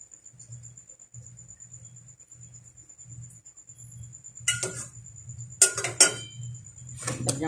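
A plate of steamed white fish with leafy greens, tomatoes and mango is set on a tray, producing a few clinking dish-and-utensil knocks near the end over a low steady hum and a faint continuous high whine.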